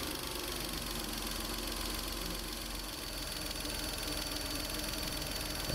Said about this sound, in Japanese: 3気筒エンジンなんですけれども、なかなか勇ましい吸気音がする、そういうエンジンですね。